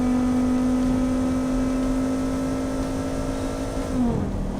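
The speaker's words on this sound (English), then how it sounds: "Rev it out, baby." A car engine in the BeamNG driving game holds a loud, steady high-revving drone near its limit, then the pitch sags sharply near the end as the revs drop. The car is a 1980s city car built in Automation.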